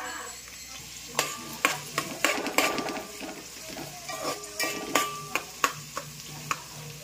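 Chopped onion hitting hot oil in a pan for misal, sizzling and frying steadily, with repeated sharp scraping stirs at irregular intervals throughout, close up and moderately loud.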